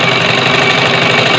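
A sewing machine stitches a bias strip onto a women's back neckline, running with a loud, continuous, even mechanical whir close up and no voice over it.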